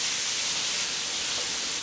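A loud, constant sizzle hisses from ground beef browning in a skillet on medium heat, bright and steady throughout with no talking.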